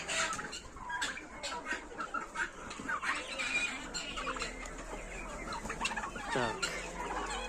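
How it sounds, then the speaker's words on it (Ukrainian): Turkeys and other farm fowl clucking and gobbling close by, several birds calling over one another in a steady, busy chorus with a low hum underneath. "А великий червоний індик молодий."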